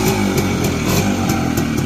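A motorcycle engine revs hard up close with a raspy, buzzing roar, rising and falling in quick surges, loud and continuous throughout.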